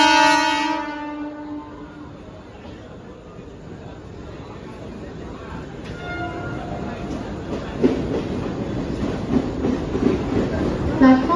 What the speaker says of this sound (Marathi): क्रमांक 6 वर आलेली लोकल 9 वाजून 22 मिनिटांची 15 डब्यांची दादरला जाणारी जलद लोकल आहे